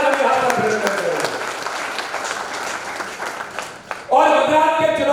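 A crowd at a political party meeting in Katni breaks into sustained, loud applause while someone speaks over it through a microphone, the clapping swelling again near the end.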